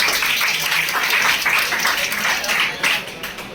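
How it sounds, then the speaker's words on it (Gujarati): Audience applause at a college welcome ceremony, a dense, loud burst of clapping from many hands that holds steady throughout, then starts to thin out near the end. "તાળીઓ તો પાડો."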